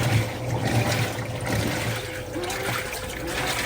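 Water trickles and rushes steadily into a GE top-load washer during its fill cycle, a close, continuous flow with no talking.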